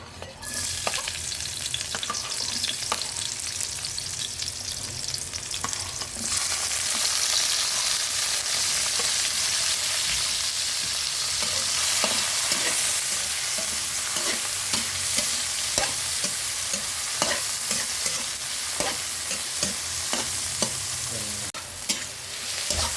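Mushrooms and vegetables sautéing in a hot pan for a ginisang kabute dish, a loud continuous sizzle with frequent scraping stirs from a utensil, close up throughout.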